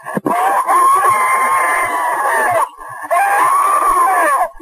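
On a 911 call, a woman gives two long, loud shrieks for help, each broken off abruptly. The sound is harsh and close, with a brief gasp at the start.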